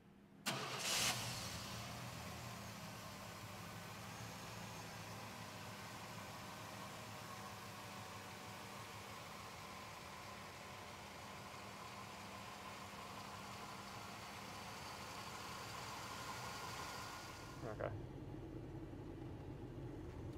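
A 1997 Chevrolet C1500 OBS pickup engine cranks and fires up near the start, then settles into a steady, even idle for around seventeen seconds before a brief clunk and a shift in tone near the end.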